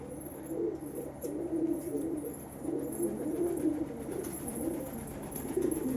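Pigeons coo in soft, repeated rolling phrases at a home loft where the hens have been feeding, with faint background noise and no talking.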